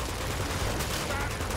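Dense game gunfire from Uncharted 2: Among Thieves, a steady, loud wash of rapid shots and battle noise that never lets up, with a voice faintly mixed in.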